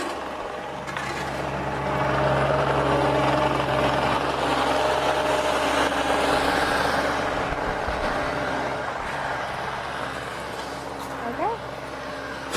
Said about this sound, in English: we have a tractor right behind us